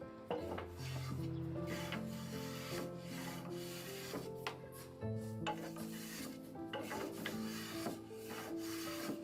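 Sanding a finish onto a knife blade by hand, with repeated scraping, rasping strokes close up and irregular knocks and clicks between them.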